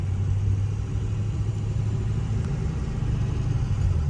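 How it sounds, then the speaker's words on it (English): A steady, loud rumble from a 2005 Ford Excursion's 6.0L Powerstroke diesel with a low droning hum, holding constant throughout; a faint high turbo whine and whistle sits above the engine noise. "The turbo whining, whistling just right there."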